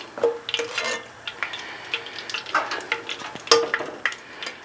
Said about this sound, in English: Let them fry up.